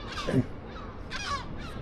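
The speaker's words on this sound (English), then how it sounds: "bombarded by the seagulls" Harsh, squawking gull cries ring out overhead near a nest on a roof, a few separate calls spaced across a short stretch, fairly loud and outdoors.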